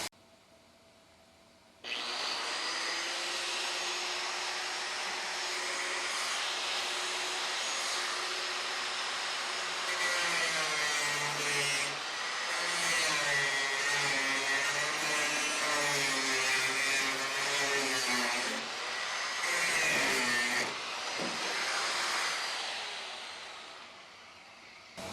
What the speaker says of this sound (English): break out the grinder.